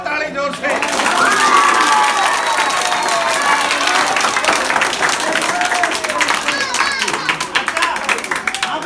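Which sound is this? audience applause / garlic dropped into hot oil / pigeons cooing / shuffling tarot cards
audience applause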